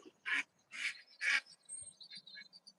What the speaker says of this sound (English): That was a duck.